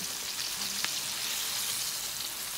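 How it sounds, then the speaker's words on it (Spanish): Flour-coated chicken deep frying in hot oil, a dense continuous hiss and bubbling sizzle, loud and close, with one faint tap partway through and no voices. "Pollo frito con harina. Riquísimo está quedando el pollo."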